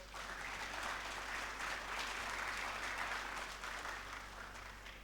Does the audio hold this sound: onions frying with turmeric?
no